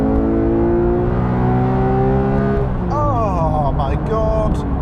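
A car engine, almost daily-driven with 7,000 miles on it, revs loudly and steadily with rising and falling harmonic tones, and a voice speaks over it in the second half.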